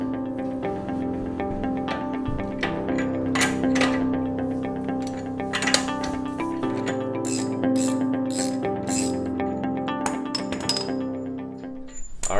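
Socket and breaker bar working on the torqued axle nuts of a Jeep JL Rubicon front axle, with repeated ratcheting clicks and metallic clinks against a steady mechanical hum, no talk.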